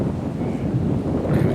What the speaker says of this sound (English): That is the wind picking up from this storm that is about to hit me any minute